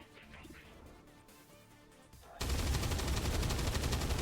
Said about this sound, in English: Where are you shooting, dude? You're shooting at the ground.